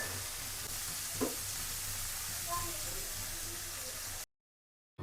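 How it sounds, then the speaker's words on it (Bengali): Cauliflower florets shallow-fried lightly in a pan give a steady, moderate sizzle throughout, with a faint brief clink partway, then the sound cuts to silence near the end. "ফুলকপিগুলো আগে ভেজে নেব, একটু হালকা করে ভাজতেছি।"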